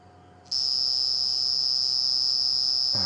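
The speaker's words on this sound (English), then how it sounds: "the sound that you're hearing is a cricket" A cricket or cicada calls loudly at night on a live sunset safari drive, a steady unbroken high-pitched trill that starts abruptly after a brief quiet lead-in and holds at full strength, close and alone.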